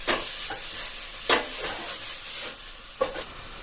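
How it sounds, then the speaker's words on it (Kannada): Masala for black beans, with coriander and red chilli powder just added, being stirred in a pan, several scraping strokes spaced out over a soft sizzle, close and with no talk. "ಇವಾಗ ಚೆನ್ನಾಗಿ ಮಿಕ್ಸ್ ಮಾಡೋಣ."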